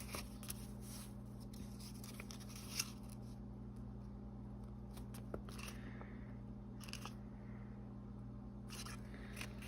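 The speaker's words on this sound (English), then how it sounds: "So I'm going to cut the end of this envelope off" Scissors cutting the end off a paper envelope, faint snips and crisp paper crunches scattered over a steady low electrical hum, close but quiet.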